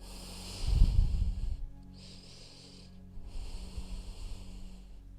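Slow breaths during a yoga pose in a class, a near, breathy inhale and a longer hissing exhale, with room hiss and no talking.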